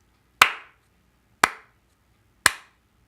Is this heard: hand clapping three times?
yes